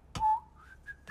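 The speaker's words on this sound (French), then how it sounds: "Le sifflement distinctif de Monsieur Mondo." A cartoon character's distinctive whistle from a children's animated series: a short sustained whistled tone with a rising glide and a second brief note, loud and close, with a sharp click at the start and no talk.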